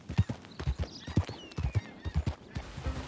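A horse in Red Dead Redemption 2 walks along with rhythmic, close hoof clops in a quick repeating pattern, over faint game ambience.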